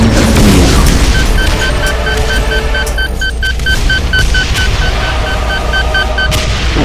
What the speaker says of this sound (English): Volleys of rockets, volleys of homing rockets